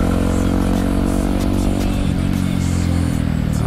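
Yamaha WR155 supermoto motorcycle fitted with a Gordon aftermarket exhaust, ridden at night in Bandung: a loud, steady, throaty engine drone with dense low rumble and slight revving, close up and continuous with no talking.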